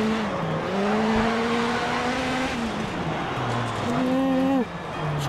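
A Volkswagen Polo Rallycross car at Höljes in DiRT Rally strikes trackside poles, the engine wailing and shifting pitch as it brakes and turns, with tire noise and a loud steady drone throughout.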